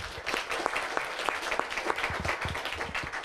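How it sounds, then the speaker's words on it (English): An audience at a talk on incarceration gives a round of applause, a dense, even patter of many hands clapping continuously throughout, with no speech over it. "can we just give both of these men a round of applause"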